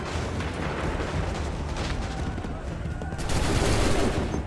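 Musket volley fired by massed soldiers in Assassin's Creed 3, a dense crackling burst of overlapping shots that swells loud near the end over continuous battlefield din.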